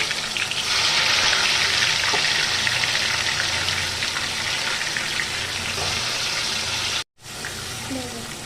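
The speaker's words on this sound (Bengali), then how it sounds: "এবার আমি ম্যারিনেট করা চিকেনটাকে এর মধ্যে দিয়ে দেব আর সামান্য একটু তেলের মধ্যে ভেজে নেবো" Marinated chicken fries in a little hot oil for biryani, giving a loud, steady, close sizzle that runs unbroken and then cuts out briefly near the end before resuming.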